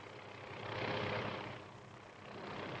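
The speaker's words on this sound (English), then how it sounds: "It's A helicopter." A helicopter passes over city rooftops, its rotor and engine noise a broad steady roar that swells toward the middle and eases off before rising again, moderately loud with no voices.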